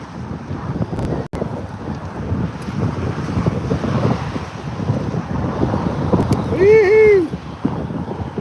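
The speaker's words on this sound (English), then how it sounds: "that wind is nice today." Wind blows across the Columbia River on a sturgeon fishing outing, a steady rushing buffet on the microphone throughout, with a short voiced whoop near the end.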